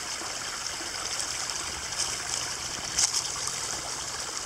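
Groundwater pours from a culvert into a creek in a dry summer, a steady soft rushing trickle that continues evenly throughout, with no voices.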